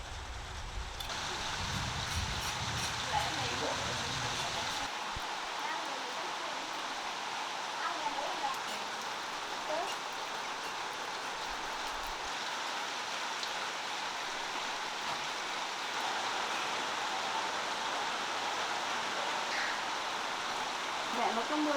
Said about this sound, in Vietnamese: Mẹ nó có mưa về này còn lâu như vậy.